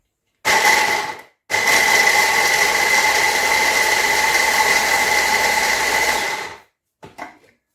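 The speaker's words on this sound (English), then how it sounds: "put in the blender, and we can blend this off." A kitchen blender whirs loudly in two bursts while blending Chinese turnip for turnip cake, a short pulse then a long steady run, stopping abruptly with a faint clatter after.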